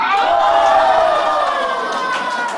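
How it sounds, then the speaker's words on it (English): A Chinese crowd gives a loud, thunderous cheer after the national women's volleyball team wins Olympic gold at Rio 2016. Shrill, sustained massed voices rise and then slowly fade, close and intense. "A thunderous cheer."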